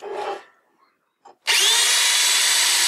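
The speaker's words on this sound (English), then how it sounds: "And start drilling small pilot holes." A power drill bores small pilot holes for a wire slot in a breadboard project, starting after a brief pause with a loud, steady high whine that runs continuously to the end. Faint handling sounds come before it.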